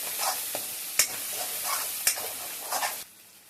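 Fried rice with chopped coriander stirred in a pan over a high flame, a steady sizzle broken by a few sharp scraping clinks of the spatula, close by with no voices.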